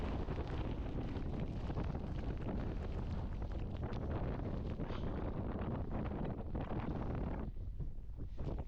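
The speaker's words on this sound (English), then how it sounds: "The wind's picking up." Strong wind buffets the microphone on a Scottish mountain, a loud continuous roaring rumble with gusty surges and no voices.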